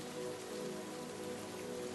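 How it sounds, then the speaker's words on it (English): Steady rain falls in countless small drops, a dense, even hiss of raindrops striking a surface that holds constant throughout, with no voices. "The rain looked down at the boy, aimed, and started to fall down in many thousands of little drops."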